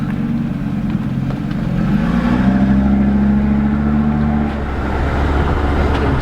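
Engine of a tuned car revving while driving on the German autobahn, a loud steady drone that rises in pitch under road and wind noise.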